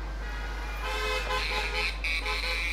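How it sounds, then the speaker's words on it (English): Street traffic outside an apartment in a busy neighborhood of shops and restaurants, with a steady low rumble under a car horn that toots several times in quick succession partway through, fairly close and clear. "There's a lot of noise coming from the street."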